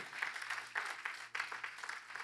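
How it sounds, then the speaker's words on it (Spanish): Church congregation applauding during a Christmas sermon, a moderately quiet, steady wash of clapping with a few surging bursts and a faint low hum underneath. "Denle un aplauso al Señor, aleluya."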